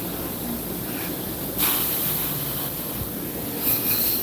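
An Amtrak Harrisburg train sits at a station platform on the Northeast Corridor, giving a steady broadband hiss and rumble with faint wheel squeal rising briefly near the end.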